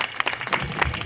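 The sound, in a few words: audience applause at a kirtan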